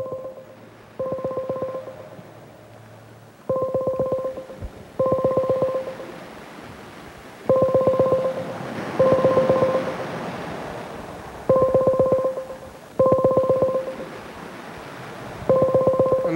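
A phone pocket-dialing, producing repeated pairs of short steady dial tones in an irregular rhythm over more than ten seconds, clear and close, with a faint background hiss between them.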